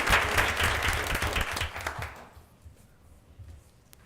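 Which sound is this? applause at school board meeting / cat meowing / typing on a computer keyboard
applause at school board meeting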